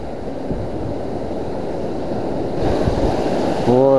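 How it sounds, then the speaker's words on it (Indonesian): Ocean waves crash and wash onto a shore during rising tide at a fishing spot, a continuous loud roar with wind buffeting the microphone, growing heavier toward the end. "ombaknya. Ombaknya lihat"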